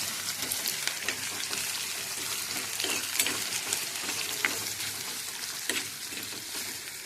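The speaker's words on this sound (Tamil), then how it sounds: "வெங்காயத்தை போட்டுங்க. லைட்டாக இப்படி ஒரு வதக்கு, இப்படி ஒரு வதக்கு." Onions are lightly sautéed and stirred in a pan for a bachelor-style fish curry, giving a loud, continuous close sizzle broken by repeated scraping stirs, with nobody speaking.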